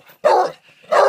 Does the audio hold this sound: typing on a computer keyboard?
no